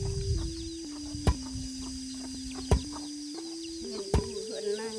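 Chickens cluck in a small mountain village without electricity, with soft repeated calls over a steady background hum and a few sharp knocks or taps.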